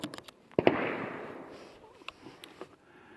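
A single sharp gunshot crack from a .22 rifle firing subsonic ammunition, followed by a fading echo and a few faint clicks and knocks.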